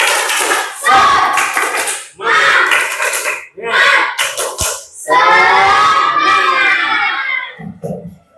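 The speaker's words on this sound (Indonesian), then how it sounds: "Kita tepuk semangat dulu biar kita lebih bersemangat lagi yuk" Schoolchildren in a classroom chant a rhythmic spirit cheer in loud unison bursts, their voices rising and pausing in phrases with a sharp clap or slap between them.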